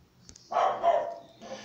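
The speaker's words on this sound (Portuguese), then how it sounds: "tem o meu cachorro ali latindo" A pet dog barks through an open window, one short burst of barking followed by a softer bark a moment later, heard at moderate distance in an otherwise quiet room.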